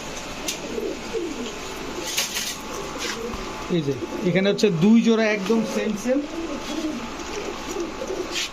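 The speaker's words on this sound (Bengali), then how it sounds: "এই যে যে কবুতরগুলা সবগুলা বড় সাইজের কবুতর।" Large red-necked pigeons coo in soft, rolling bursts close by, swelling midway through, while someone talks steadily over them.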